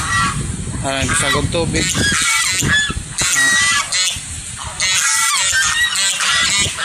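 A flock of geese honks loudly and repeatedly at close range in a rural yard, with overlapping nasal calls in quick bursts while a person speaks briefly among them.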